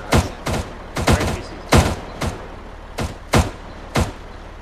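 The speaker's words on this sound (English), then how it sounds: "I'm hearing fire from the front." Gunfire in Arma 3 pops out in short bursts, about eight sharp close reports in an uneven rhythm, each decaying quickly over a low hum.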